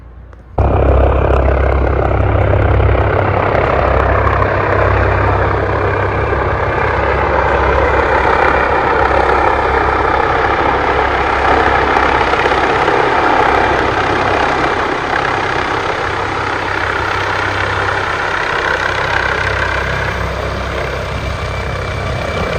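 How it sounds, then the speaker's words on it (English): A helicopter flies over the Grand Canyon, a loud, steady rotor and turbine roar starting abruptly and holding close and constant for over twenty seconds, easing slightly at the end. "We're not sure who the helicopter was for,"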